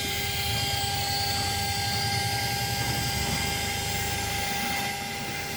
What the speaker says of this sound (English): So now the gyroscopes are spinning up.